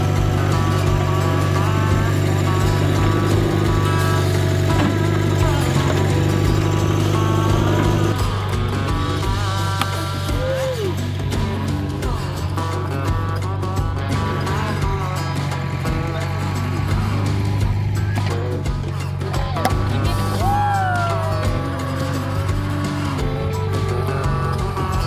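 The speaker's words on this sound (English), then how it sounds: "He's gonna take over backhoe duties for a little bit." A backhoe digs and moves dirt while fixing sinkholes behind a front pond. Its diesel engine drones loud and steady throughout, with hydraulic whines and pitch shifts as the arm works.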